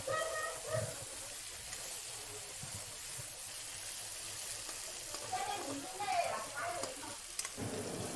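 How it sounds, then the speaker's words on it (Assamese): Chicken and potatoes frying in a pan while being stirred together for a local chicken curry, with a steady sizzle and hiss and occasional scraping stirs close by. "আলু দি আকৌ এবাৰ মই মিক্স কৰি লৈছোঁ।"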